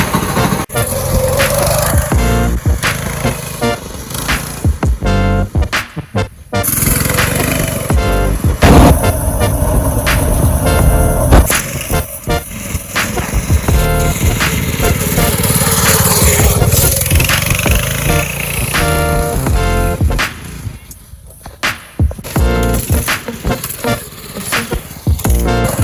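A go-kart with a Predator engine starts for the first time and is ridden, its small motor buzzing and revving loudly, rising and falling with the throttle, amid rattles and bumps up close.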